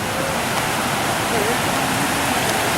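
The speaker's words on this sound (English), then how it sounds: "This is the creek that crosses under the highway. Continues on through the culvert." Haw Creek runs through a culvert under a highway near a campground trailhead, a loud, steady, broadband rush of flowing water that fills the whole moment without a break.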